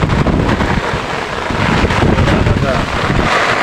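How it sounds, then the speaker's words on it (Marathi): Heavy rain and strong wind on a mountainside, a loud, dense roar of gusting wind buffeting the microphone that runs throughout with a rough, surging texture. "आता पाऊस आला तर खूप जोरात पाऊस आला डोंगराचा पाऊस म्हणजे पूर्ण वारा सुटतो डोंगरावर"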